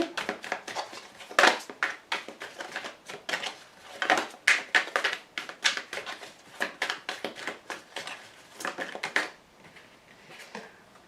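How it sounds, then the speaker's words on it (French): Oracle cards from a blue oracle deck handled and laid on a table during a tarot reading, giving a steady run of close, dry papery slaps and shuffling taps that fade toward the end. "Je vous tire une carte de l'oracle bleu ici."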